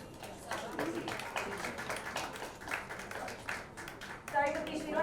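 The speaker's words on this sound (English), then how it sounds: "Can we please get a round of applause?" An audience at a press meet for a book launch claps to welcome the publisher: a short run of scattered, fairly close hand claps, with voices speaking over it.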